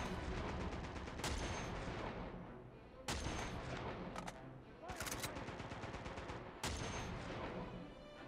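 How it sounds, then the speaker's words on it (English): Gunfire in the handheld game Uncharted: Golden Abyss on PlayStation Vita, several sharp bursts ringing out over a dense, continuous bed of game music and action noise. "Who's shooting at me now?"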